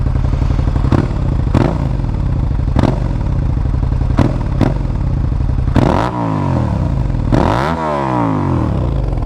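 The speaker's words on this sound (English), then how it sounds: "slow exhaust sound." A 1999 Suzuki SV650 motorcycle idles at low revs close by, its steady exhaust burble broken by several sharp clacks and two brief swelling revs toward the end, with no talking.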